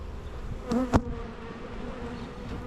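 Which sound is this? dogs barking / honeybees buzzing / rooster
honeybees buzzing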